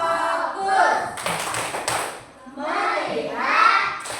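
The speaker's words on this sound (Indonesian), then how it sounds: "ayo kita tepuk fokus dulu" Children in a second-grade classroom perform a rhythmic focus clap routine, short bursts of clapping mixed with their chanted voices and an adult leading, close and lively.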